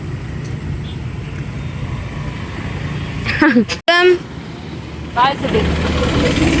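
An airplane flies overhead as a steady engine drone underneath nearby voices chatting, with a brief rustle breaking up the rumble partway through.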